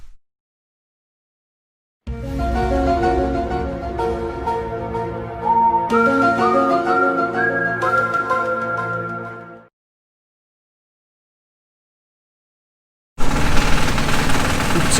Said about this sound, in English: You can hear that mixer in the background already fired up and going off